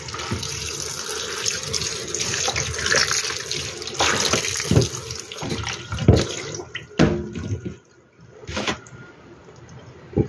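Clean running water splashes and pours as pickled mustard greens are rinsed by hand in a sink, loud and close, with handling bumps near the end as the flow briefly stops.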